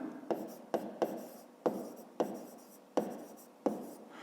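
Pen or pencil strokes scratch across paper as numbers are written by hand during a fifth-grade math exercise, about seven quick taps and scrapes close by, quiet and steady, no talk.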